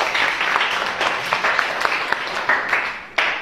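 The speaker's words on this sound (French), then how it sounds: "Applaudissez-le." Pupils in a French language classroom applaud a classmate, a lively patter of many small hands close by, steady for a few seconds with a louder burst near the end.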